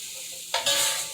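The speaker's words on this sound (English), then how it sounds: "I'm going to let this saute like this for about 3 or 4 minutes" Cabbage and vegetables hitting a hot pot, a sudden close sizzle breaking in about halfway and continuing through the short clip.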